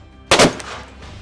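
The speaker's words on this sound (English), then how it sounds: "There are only 2 commands to fire this cannon, and they are ready, fire!" A ceremonial cannon fires on Mackinac Island with a single loud, sharp boom, then a brief echoing rumble that fades outdoors.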